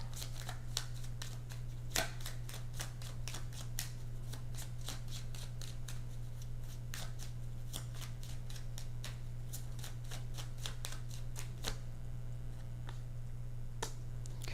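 Tarot cards being shuffled and pulled from the deck, a steady run of quick papery flicks and snaps, close and continuous over a low electrical hum.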